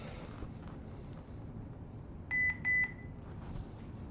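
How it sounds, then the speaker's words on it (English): A security camera gives two short electronic beeps in quick succession after reading a QR code, ringing out clearly over a steady low background hum. "when the camera reads the QR code, it just beeps and lets you know it's ready"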